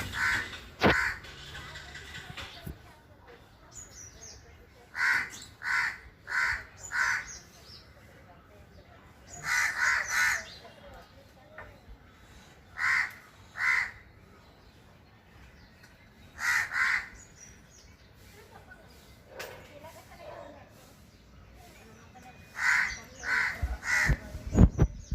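Crows caw outdoors in repeated short bursts of two to four harsh calls, spaced with quiet gaps over a steady background hiss, some calls near and loud, others fainter.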